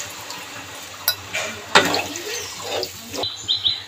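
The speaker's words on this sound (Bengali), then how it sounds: "এবার পরিমাণ মতন জল দিয়ে দেবো।" Water is poured into a pan of potatoes and spices that were sautéed for an Indian-style broccoli and potato dish. It makes a close, steady splash and trickle, with a faint clink of utensils against the pan.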